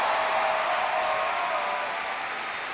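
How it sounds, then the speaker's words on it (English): An audience applauds steadily at a university event, the clapping dense and even as a broad hiss that fades slightly toward the end, with no talking. "Let's give him a round of applause."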